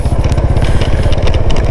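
A motorcycle not built for trail riding rides over a rough rural road near Antipolo, Abijilan, Bohol, its engine running steadily and loud and close, with crackling and scraping road noise throughout.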